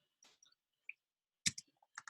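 Sparse, quiet clicks of keys on a computer keyboard while typing Greek, a few isolated taps followed by a short cluster of presses in a silent room.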